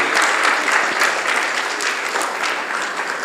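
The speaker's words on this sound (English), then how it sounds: "So big round of applause for the entire SSC crew." An audience gives a big round of applause for the entire SSC crew after a play written and directed by Sister Mary, a dense, steady burst of clapping from a full room with no talk over it.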